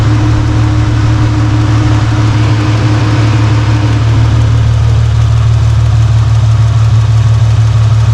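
A 2013 Infiniti G37 sedan engine runs steadily with a loud, close idle drone and a faint rhythmic ticking from the suspected AC compressor, continuous and unchanging with no voices.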